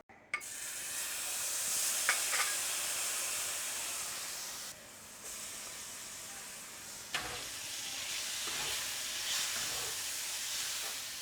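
Garlic and sliced sun-dried tomatoes frying in a pan for gnocchi arrabbiata, giving a steady, moderately loud hiss and sizzle that runs continuously with a few brief clinks and stirring scrapes, no voices.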